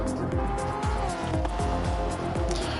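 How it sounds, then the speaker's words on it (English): A Honda GT3 race car in Gran Turismo 7, racing in Gr.3 on the Trial Mountain circuit, revs hard with repeated rising engine sweeps and quick gear changes, loud and continuous with some tire noise. "check out the sound on that Honda GT3 race car"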